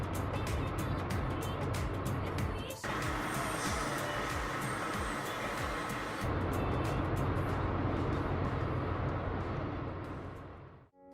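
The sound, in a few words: car being driven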